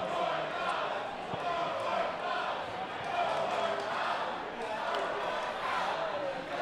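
A stadium crowd at an ultimate frisbee final jeers steadily at foul calls, a dense sustained roar of many voices rising and falling throughout.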